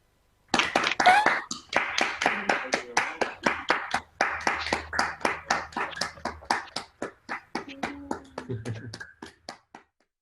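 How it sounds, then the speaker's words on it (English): A single pair of hands claps for a virtual graduation ceremony, a close, regular run of about thirty sharp claps that gradually slows and softens before stopping, with faint background noises between claps. "if everybody can unmute their microphones, please, in a round of applause"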